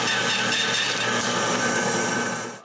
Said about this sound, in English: I cut the dominoes to make them small